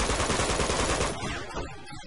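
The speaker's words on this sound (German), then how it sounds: "Einfach mal drauf schießen." Rapid automatic gunfire in the video game Uncharted 2 rattles loud and close as a dense burst of shots, then breaks off and leaves scattered echoing reports and fading rumble.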